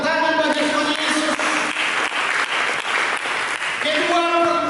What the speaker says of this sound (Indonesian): Dengan tepuk tangan bagi Tuhan Yesus.